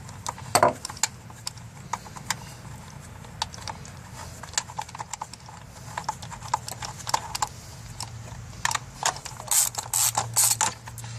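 A ratchet works bolts free from a car engine's coil pack hold-downs, giving rapid, irregular clicking bursts with occasional metallic knocks, close and fairly loud against a low hum.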